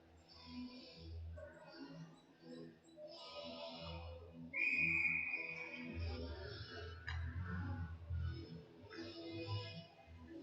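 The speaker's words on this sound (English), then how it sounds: "We'll get a whistle." A referee's whistle gives one short, clear blast at an ice hockey game, heard mid-clip and a little distant above the arena's murmuring crowd and rink noise.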